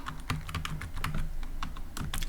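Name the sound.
typing on a computer keyboard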